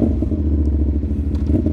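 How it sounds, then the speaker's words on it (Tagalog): A CFMOTO 450NK motorcycle with a cat-delete SC Project exhaust idles nearby, giving a loud, steady, throbbing rumble with a faint crackle and no talk. "Mas maingay at mas maganda na yung tunog niya dahil sa cut delete."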